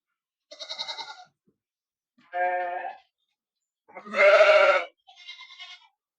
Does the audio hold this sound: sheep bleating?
yes